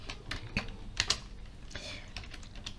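Quick, close keystrokes clatter on a Windows computer keyboard, a few isolated taps followed by a short burst of typing, all fairly quiet.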